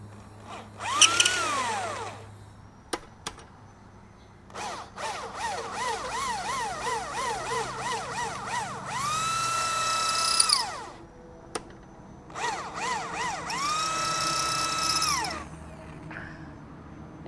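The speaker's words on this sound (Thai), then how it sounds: "เราก็จะเจาะลงไป เราก็จะเจาะลงไปลึกลงไปประมาณ เจ็ดมิล" A power drill whirs in several bursts, its pitch rising and falling as it bites into a motorcycle front fork shaft about seven millimetres deep, with short pauses and clicks between runs.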